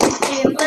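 Hands clap in a short rhythmic burst of about four claps during a Tepuk PPK clap chant, close and fairly loud, with no talking.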